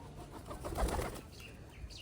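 Pigeons coo softly on a pigeon farm in Bangladesh, with low murmuring calls and faint wing rustles under a steady room hum, fairly quiet and without talk.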